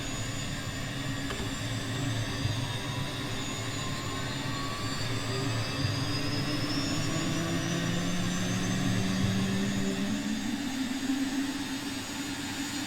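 A small piston aircraft engine runs near and loud at a Southern California airfield, a steady droning roar with a rising tone as it comes up to speed after starting.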